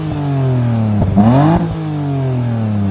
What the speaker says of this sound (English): do you think you know how to give me some revs?